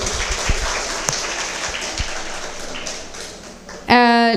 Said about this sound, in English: A big round of applause for that also.